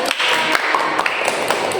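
A small group claps during a compost fertilizer training session, quick irregular hand claps that are fairly close and loud over a busy room background.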